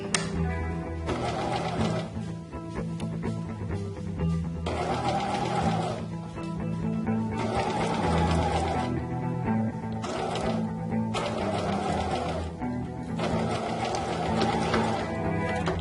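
A sewing machine stitches a point sample in repeated bursts of rapid mechanical chatter, about five runs separated by short pauses, fairly close and steady in level.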